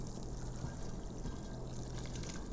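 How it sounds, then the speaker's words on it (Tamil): Warm water, not boiling, pours steadily onto dry glass noodles in a bowl to soak them for a chicken stir-fry, a continuous close splashing trickle with no voices. "ஊற வைக்கிறதுக்கு வார்ம் வாட்டர், கொதிக்கிற தண்ணி இல்லைங்க, வார்ம் வாட்டர் ஆட் பண்ணிக்கிறேன்."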